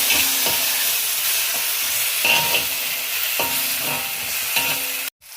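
Onion, tomato and green chilli fry for chilli paneer in a loud steady sizzle, with regular scraping strokes of a stirring spoon roughly every second, close up and with no voices, until the sound cuts off abruptly.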